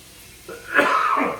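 A single muffled, throaty cough into an arm, close by, rising and trailing off, stifled into a sleeve.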